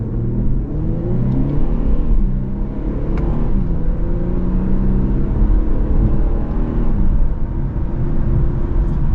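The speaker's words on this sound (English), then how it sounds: "Cracking off the downshifts on the way down as well." A 2024 Infiniti Q50 Red Sport 400 Black Opal Edition revs loudly and repeatedly as it downshifts on the road, its engine note rising and falling steadily throughout, with no talking.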